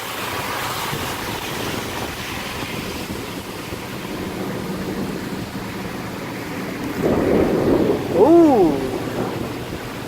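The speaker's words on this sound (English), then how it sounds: "The rumble of that thunder though" Deep rolling thunder from a severe thunderstorm over Newburg, Pennsylvania, a low rumble swelling near the end, while a person lets out a brief exclamation over it.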